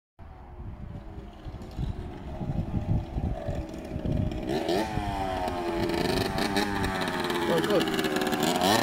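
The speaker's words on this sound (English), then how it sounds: "It's bogging out a lot, so it might need a carb clean." A 90cc two-stroke enduro dirt bike engine bogs and then revs, its raspy buzzing climbing to a loud, sustained rev close by, with a man's brief exclamation early on.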